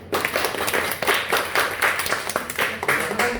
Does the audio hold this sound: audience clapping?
yes